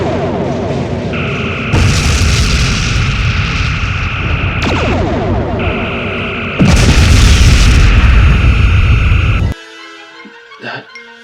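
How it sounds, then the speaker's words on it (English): Starship phasers and photon torpedoes striking an enemy escort ship in a video game space battle: loud, close booming blasts over a sustained weapon tone, ending in a sudden drop to quieter electronic sounds. "Target the escort ship. Phasers and photon torpedoes. Make it go away."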